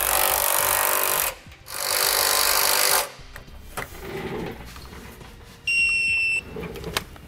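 Nuts on a rear anti-sway bar bracket of a 2014 Mercedes-Benz are run down with a power tool in loud close bursts, followed by a short ratcheting buzz.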